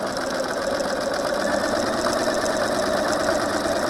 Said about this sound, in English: I'm just going to sew right along that line